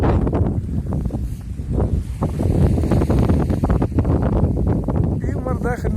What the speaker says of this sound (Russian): Ветер оттуда идет, вот с воды.